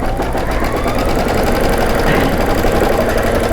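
An embroidery machine stitches out a design in a steady, rapid mechanical rhythm, loud and close with continuous whirring and clatter.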